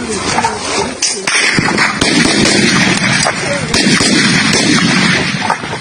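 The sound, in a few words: gunfire during army firefight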